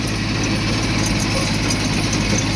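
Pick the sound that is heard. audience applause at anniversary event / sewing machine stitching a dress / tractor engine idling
tractor engine idling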